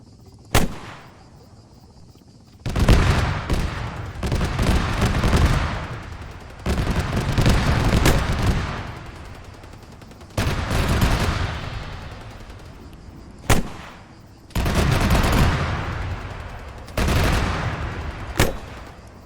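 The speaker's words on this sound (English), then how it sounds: "Let's shoot 700 meters" Rifle shots fired at a 700-meter target ring out in sharp single cracks, each followed by a long rolling echo across open ground, several spaced shots over a steady outdoor hiss.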